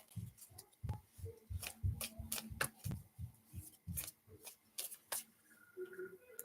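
Tarot cards shuffled by hand during a live reading, a quiet close run of soft papery riffles and taps in an uneven rhythm, faint, with no talk over it.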